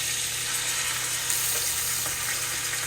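Ribeye steak sears in butter in a hot pan, giving a steady, close, even sizzle with a bright crackling hiss that runs unbroken throughout, and no voices.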